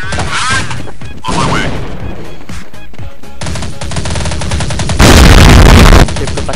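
Rapid gunfire from Counter-Strike 1.6, with repeated loud shotgun and weapon blasts in dense bursts and a very loud sustained burst near the end, clattering game effects between shots.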